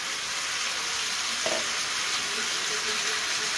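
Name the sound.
chicken sizzling in pan as tomato is added, oil-free recipe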